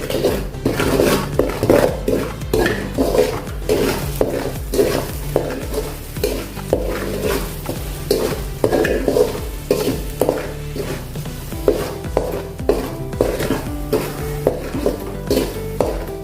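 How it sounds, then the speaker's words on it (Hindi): A spatula stirs and scrapes a spice mix roasting in a pan for thin poha chivda, with steady rhythmic scraping and clinking strokes over a soft sizzle and no talking. "थोड़ा सा इसको भून लीजिए।"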